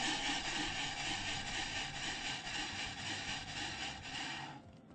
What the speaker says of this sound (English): sand into the face of the molding to prevent splintering